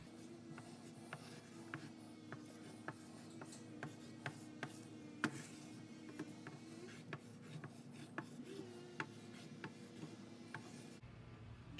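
Chalk rubbing and scratching across a surface while coloring, a steady soft scraping broken by repeated light taps and strokes, close and quiet, with no talking.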